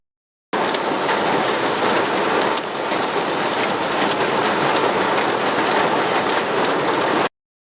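Rain falls on soil in a steady, dense patter that starts abruptly and holds constant for several seconds, close and loud with no talk.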